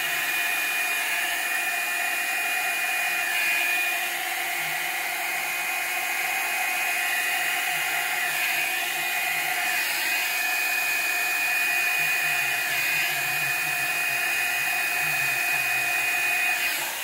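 Small handheld blowing tool whirring steadily as it pushes white paint across a canvas in a paint-pour session, a continuous high-pitched motor whine with faint shifting airflow and no talk.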